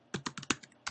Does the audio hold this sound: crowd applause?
no